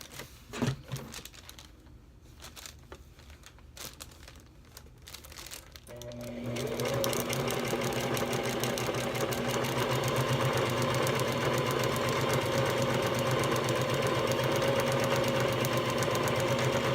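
Sewing machine stitching fabric, starting after a few seconds of handling and fabric rustle, then running in a steady, close, continuous rattling hum for the remaining ten seconds.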